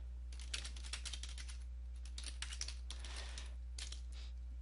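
Rapid, light keystrokes patter on a computer keyboard in bursts, faint and close, over a steady low electrical hum.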